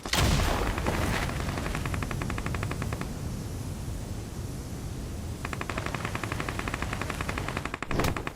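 Dense, rapid bursts of gunfire crackle outside a house, loud and nearly continuous. The rattling volleys thin briefly midway, then pick up again, with no voices.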